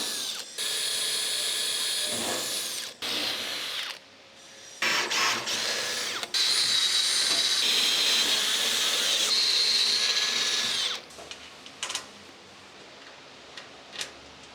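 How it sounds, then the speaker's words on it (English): A power drill bores holes through the metal mudguard of a scale SdKfz 221 light armoured car in a workshop, loud sustained whining bursts with short pauses between, then quieter clicks and taps. "So what we're going to do now is drill some holes here."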